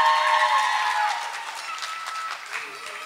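Audience applause at an evening music and entertainment show, fading from a fuller opening burst into lighter scattered clapping, with a tonal ringing layer underneath.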